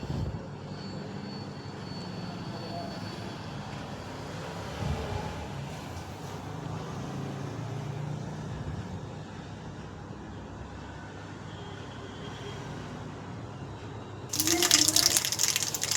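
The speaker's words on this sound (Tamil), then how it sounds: "கடுகு நல்லா பொரியட்டும்ப்பா." Mustard seeds with chana dal and urad dal spluttering in hot oil as a tempering for South Indian coconut rice, a steady close crackling hiss throughout that swells into a louder burst at the very end.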